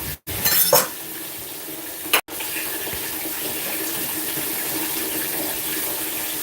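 Tap water runs in a steady, loud rush close by, with a brief splashy burst near the start and a short break in the flow, and no talking.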